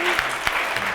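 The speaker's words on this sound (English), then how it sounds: "We'll give you guys a round of applause for" Audience applauding panel speakers at a rights discussion event, a continuous dense clatter of many hands, steady and fairly loud.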